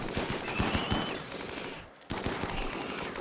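Rapid bursts of gunfire in the Rimworld video game, with dense overlapping automatic shots and shotgun blasts, a brief lull near the middle, then the loud continuous fusillade resumes.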